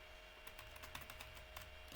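Rapid, faint keystrokes on a computer keyboard, a steady run of soft clicks during switch configuration, heard alone under low background hiss.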